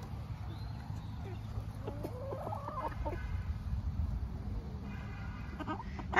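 Chickens cluck in short, irregular bursts at moderate distance while eating napa cabbage, over a low, steady background noise.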